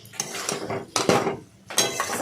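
A spoon scrapes and knocks against a pan while fried paneer is stirred for paneer korma, in three separate bursts of clattering separated by short pauses.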